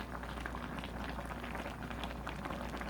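Braised yellow croaker with radish, seasoned with perilla oil and chili flakes, simmers quietly in a pot with a soft, steady bubbling and no voices.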